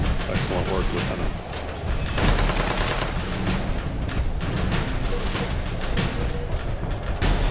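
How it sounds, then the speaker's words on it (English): Gunfire in a Fallout 76 role-play PvP battle between factions on a hill: continuous loud bursts of rapid shots and crackling volleys, with heavier booms mixed in, dense and sustained throughout with no pauses. "Shots from behind us."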